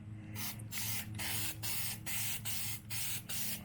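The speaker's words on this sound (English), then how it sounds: "Let's spray, see what happens." Repeated hissing bursts from an aerosol spray paint can on a turbo BMW E36 project car, about eight short sprays in a steady rhythm, close and fairly quiet with a low hum underneath.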